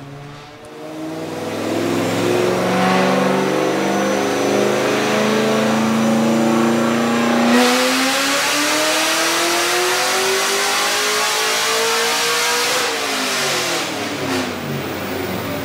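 A boosted car fitted with 180-degree headers revs hard on a dyno roller, its engine note climbing steadily in pitch through a long sustained pull, loud and close, with a brief shift midway and the revs falling away near the end.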